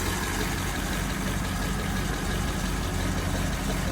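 A 1935 Pontiac straight-eight engine idles steadily up close, a continuous low rumble with an even, unbroken churn that holds at the same level throughout, with no voices.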